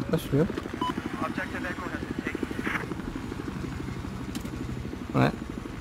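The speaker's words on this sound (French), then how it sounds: "Hélico à droite." Helicopter in the video game Squad on the Flood Zone map, a steady pulsing rotor chop throughout, fairly loud and close, with voices speaking over it.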